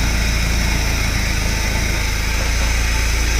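A Ford GPW jeep engine idles steadily just after the ignition is switched on, a continuous low rumble with a faint mechanical hum and no voices over it.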